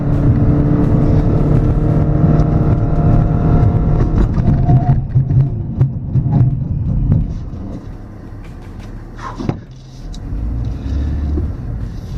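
A 2014 Lexus CT 200h F Sport hybrid roars loudly up close on a track, then the sound drops and fades as it brakes hard with energy-recovery brakes, with a brief rumble and settling noise near the end.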